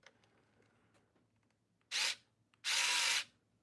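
A power drill backs Phillips screws out of a fan in two short whirring bursts, the second longer, after a quiet moment of faint handling sounds.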